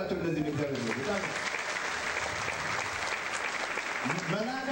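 A church congregation in Bahir Dar claps together, a broad wash of applause filling the room, with a speaking voice heard over it at the start and again near the end.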